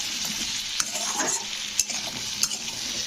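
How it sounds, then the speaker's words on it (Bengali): Salted potato pieces fry in a pan for jhinge aloo posto, a continuous bright sizzle with a few soft stirring clicks from a utensil, close and steady. "তো চলো, আলুগুলোকে একটু লালচে করে ভেজে নিই।"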